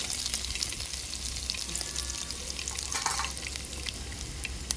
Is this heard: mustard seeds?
yes